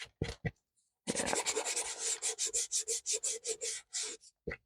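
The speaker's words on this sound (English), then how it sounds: "Probably use sandpaper." Sandpaper rubs back and forth over a painted board in a quick series of close, crisp scratchy strokes, a few scattered swipes first, then a steady rhythmic run of around fifteen passes.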